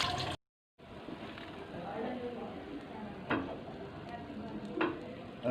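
KFC-style chicken fries in hot oil with a steady hissing sizzle, broken by a couple of clinks of a utensil against the pot. Someone talks over it throughout.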